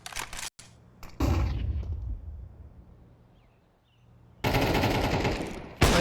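Gunfire in the Counter-Strike video game on the Mirage map during a competitive match, loud bursts of rapid automatic fire at the start and again later, separated by a quieter stretch of distant game ambience.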